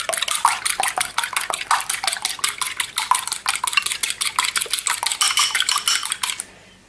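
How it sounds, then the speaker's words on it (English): Fork whisking an egg in a bowl, rapid rhythmic clinking taps against the sides, steady and close, stopping abruptly near the end. "now I'm just going to whisk this egg a little bit, or beat the egg a little bit"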